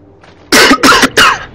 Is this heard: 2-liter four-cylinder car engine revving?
no